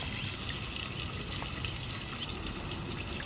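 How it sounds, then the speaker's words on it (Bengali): Raw green banana and potatoes are rinsed under running water, a constant close splashing rush of water with no pauses. "আর একবার ভালো করে ধুয়ে নিচ্ছি।"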